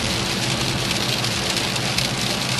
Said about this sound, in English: the rain is just straight slapping him in the face